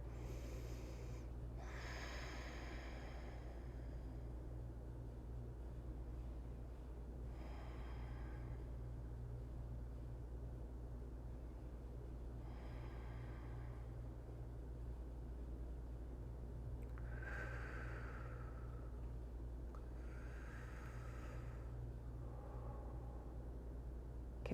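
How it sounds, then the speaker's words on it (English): Slow, deep breaths during a yoga pose come and go in soft, drawn-out waves, about six faint inhales and exhales spaced several seconds apart over a quiet steady background hum. "Let's spend 6 or 7 breaths right here."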